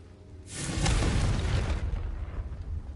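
Confringo spell blast in the video game Hogwarts Legacy: a single loud whooshing explosion that swells in and rumbles for about a second and a half before fading.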